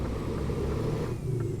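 A heavy truck in a driving simulation game uses its engine brake while downshifting, a brief, low, throaty engine rumble that shifts slightly in pitch as it slows.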